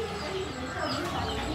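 Frillback pigeons and other birds call in an aviary section of a park, with brief clucking and cooing sounds close by under a steady background hum, and a person speaking.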